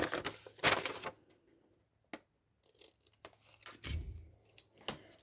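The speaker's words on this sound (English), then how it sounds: "I'm going to put the double-sided sticky tape on the inside of the folds." Double-sided sticky tape being torn and pressed onto the inside folds of a sheet of vellum, with short ripping and crinkling bursts spread between quiet gaps, close and fairly loud.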